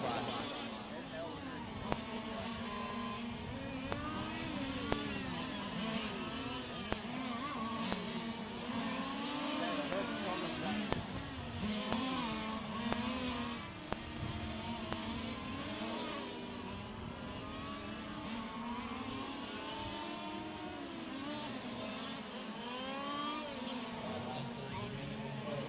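Fifth-scale on-road RC race cars scream around a championship track, their small engines whining and rising and falling continuously as they pass, under steady commentary from an announcer.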